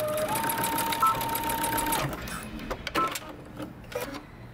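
A sewing machine top stitches a coat in a fast, steady whirring run that lasts about two seconds. A few short, separate bursts of stitching follow, with pauses between them.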